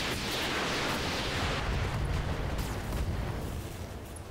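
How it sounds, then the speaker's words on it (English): A mech in the RogueTech battle game unleashes all its weapons at once, a dense roaring barrage of booming explosions and rushing noise that holds steady for several seconds before easing slightly. "So we're gonna fire everything on this guy"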